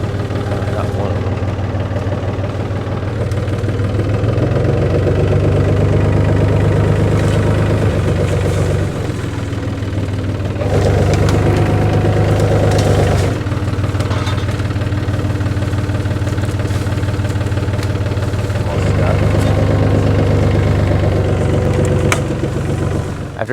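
A tractor engine idles loud and close in a steady low rumble during land clearing for a new garden, its pitch shifting a few times as the throttle rises and falls, with talk over it.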